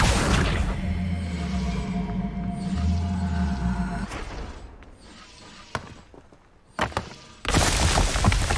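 Accio summoning spell effects in the Hogwarts Legacy video game: a sustained magical whoosh with low rumble, followed by a quieter stretch broken by sharp thunks and impacts, then a loud burst of effect noise at the end.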